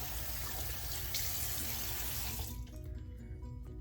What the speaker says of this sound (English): I'm gonna rinse off my hands before I move on to the next thing